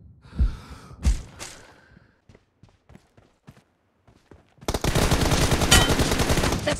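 Gunfire in the mobile shooter PUBG Mobile during a team deathmatch: two loud shots with gasping breaths and scattered clicks, then a sustained loud burst of rapid automatic fire near the end.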